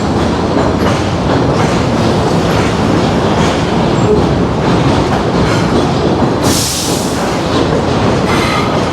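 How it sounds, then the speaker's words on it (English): Subway train of the 6 line running past on the elevated track over Westchester Avenue in Pelham Bay, Bronx, a loud, close, continuous rumble with rattling wheels and a sharp high squeal of steel partway through. "Subway line is making a lot of noise."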